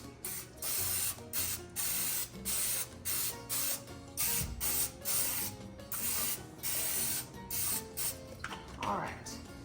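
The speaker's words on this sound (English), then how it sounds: "So we're gonna spray these." Cooking spray hisses into mini loaf pans in a series of short, repeated bursts with brief gaps between them, close to the microphone, against a faint kitchen background.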